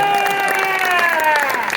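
Crowd at a concert in Market Hall, Peterborough applauds the touring crew, a steady wash of clapping and cheering layered with sustained, slowly falling tones for the full length.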